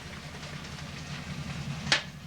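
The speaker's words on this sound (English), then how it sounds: "Hear that noise kick up a little bit with the olive oil?" Olive oil with hunks of garlic sizzles in a pan, a soft, steady crackling hiss close by, broken by one brief sharp clink near the end.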